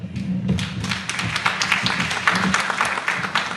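An audience at a ceremony applauds with dense, uneven clapping that carries steadily for a few seconds, close and fairly loud, with a faint voice underneath.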